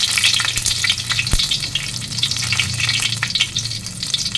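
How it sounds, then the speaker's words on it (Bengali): Bay leaf and dried red chili tempering in hot oil in a wok, a loud bright continuous sizzle with light crackles and one sharp knock. "এখন তেজপাতা আর শুকনো লঙ্কা ফোড়নে দিয়ে দিলাম।"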